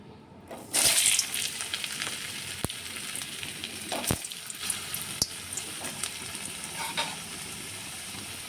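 Potato pieces frying in a kadhai (wok), a loud close sizzle that flares as they go into the oil and then keeps crackling steadily, with occasional sharp clicks and no voices.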